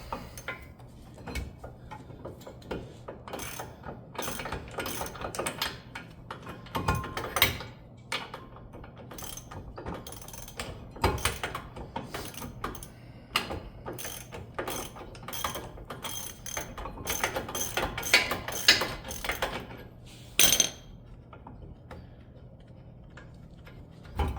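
A hand ratchet clicks away loosening factory-tight bolts on the front or rear wheel hub bracket of a 2018-2021 Chevrolet Equinox 2WD, its steady pawl ticking coming in repeated runs with pauses, close and without talk.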